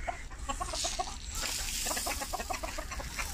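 Chickens cluck repeatedly in a farmyard where geese and silkies are kept, a busy overlapping chorus of short clucks close by over a steady background hum, with no talking.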